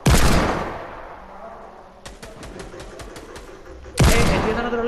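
Heavy pistol fire in the video game Fortnite: a loud, sharp shot opens, a run of quick mechanical clicks follows, then a second booming shot rings out near the end.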